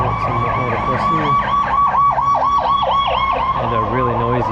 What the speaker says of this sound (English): And a really noisy ambulance.